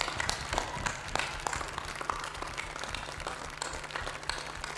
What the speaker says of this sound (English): So if I could please request you to just applaud this fantastic lot of players